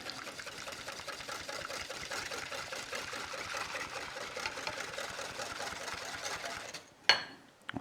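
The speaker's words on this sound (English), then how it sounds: "Whisk that in." A whisk beats stock for chawanmushi in a bowl, a fast steady rattling whir close up that runs for several seconds, then stops with a brief clink.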